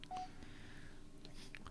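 Short electronic phone tones beep from a nearby handset in a quiet room, a few separate bursts of keypad-style dialing tones.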